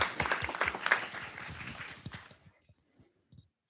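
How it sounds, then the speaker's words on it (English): Applause from a youth engagement forum audience, a moderate round of clapping that thins out over a few seconds into scattered last claps before falling quiet. "Round of applause for Aisha."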